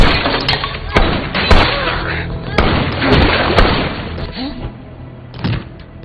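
Gunfire and heavy thuds from a film shootout, loud close bangs and booms scattered across several seconds over a dense, busy soundtrack.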